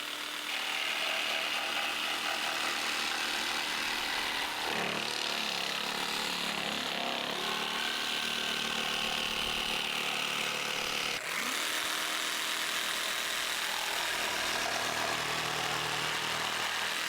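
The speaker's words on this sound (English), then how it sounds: "I need to notch out for the window frame, so I just mark it all out, and then I'm going to use the jigsaw to cut it." A jigsaw notching wooden cladding around a window frame in a garden room build, a loud, continuous buzzing cut with brief shifts in pitch and load as the blade works.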